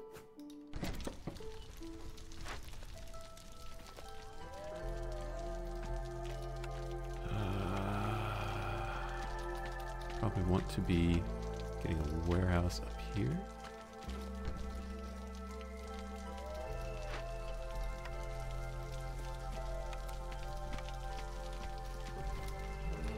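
Steady rain during a drizzle in the Against the Storm video game, a soft continuous patter running under game music and tones, with someone talking briefly over it.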